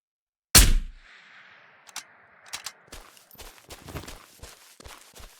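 A single sharp, loud sniper rifle shot rings out in the video game Ghosts of Tabor, its echo tailing off, followed by scattered clicks, footsteps and faint distant gunfire.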